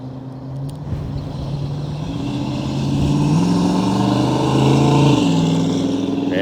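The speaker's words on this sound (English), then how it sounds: "Nice deep rumble. Dual exhaust is awfully nice to have." A 1967 Ford Mustang V8 with dual exhaust revs close by, a deep steady rumble that climbs in pitch in stages and holds loud before easing slightly, with no talking over it.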